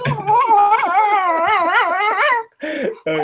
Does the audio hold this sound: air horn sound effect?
no